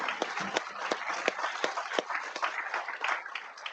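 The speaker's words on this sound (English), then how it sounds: "So I want to give a round of applause to the class of" A round of applause for the graduating class at a Bay Mills Community College graduation ceremony; moderately distant crowd clapping, continuous with distinct sharp claps standing out at fairly regular intervals.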